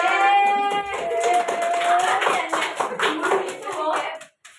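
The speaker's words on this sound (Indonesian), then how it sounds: "Semuanya benar, tepuk tangan." A classroom of students claps for correct answers during a microteaching lesson on Earth's structure, a busy burst of hand claps mixed with voices and chatter, fading out near the end.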